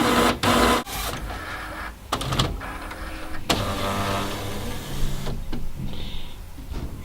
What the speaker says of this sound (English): Open the scanner or lid of the printer.